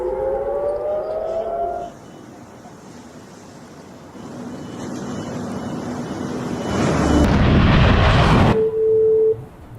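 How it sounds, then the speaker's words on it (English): Air raid sirens wail across Tel Aviv during an incoming missile attack, a steady droning tone with a sustained mechanical rise toward the end, distant and carried over broad background rumble. "Air raid sirens were heard across the city as Israel's air defense systems were activated to intercept these incoming missiles."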